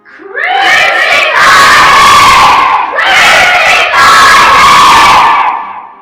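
A school class crowd shouting loudly in a passion play, two long roaring surges of many young voices yelling together, very close and loud.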